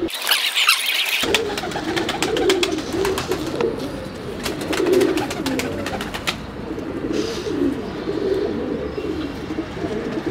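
Pigeons coo repeatedly in low, soft burbling calls nearby, with brief scratchy rustling and a sharp high squeak near the start.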